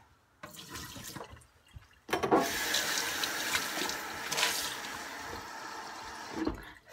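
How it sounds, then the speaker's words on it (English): A tap runs into a sink to change the brush rinse water during painting: a short splash, then a steady, fairly loud stream of running water for several seconds before it stops. "Water change because this is multicolored."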